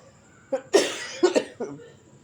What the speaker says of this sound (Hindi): आपको खांसी की आवाज़ आ रही है